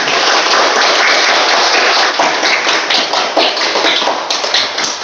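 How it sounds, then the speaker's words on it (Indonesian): Classroom applause, a brisk burst of many hands clapping together at close range, steady and dense throughout with no voices over it. "Oke, tepuk tangan."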